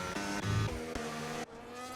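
Formula 1 race cars in a sim racing game at the Italian Grand Prix, with a near engine whining at high revs, quick gear shifts and brief blips before the sound drops away.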